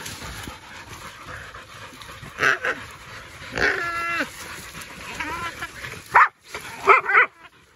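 Dogs on a New Zealand boar hunt bark, yip and pant close by in several short bursts, with a voice speaking briefly between them.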